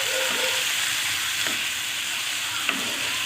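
Spices fry with salt, turmeric and tomato in a pan, giving a steady, loud sizzle broken by occasional scraping stirs.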